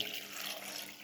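Water pours steadily into a blender jar holding a strawberry, kiwi and mint drink with sugar and salt, a brief, close, continuous splashing stream with no talking.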